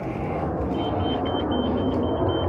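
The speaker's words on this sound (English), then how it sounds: "That's my alarm system beeping." A 2014 Chevrolet Silverado pickup's alarm system gives off a faint, rapid string of repeated high beeps, half buried under a steady low rumble and broadband noise.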